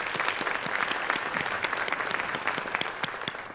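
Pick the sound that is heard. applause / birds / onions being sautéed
applause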